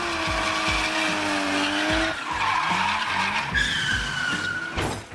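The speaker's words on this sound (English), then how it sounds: "What began as a car flex while burning rubber turned into something far more deadly." A car burning rubber with long, loud tire squeals and skids that bend in pitch, engine roaring underneath, ending in a sharp bang.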